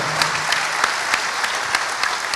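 Audience at an international panel on exporting applauds a guest, a steady wash of many hands clapping with sharp individual claps standing out, sustained throughout.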